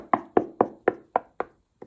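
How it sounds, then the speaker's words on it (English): Knuckles rap on an old Georgian-era wall while checking for hollow spots, making six sharp, evenly spaced knocks and then one softer final tap after a short pause, close and clear with no talking. "So when you knock it, it seems to be hollow."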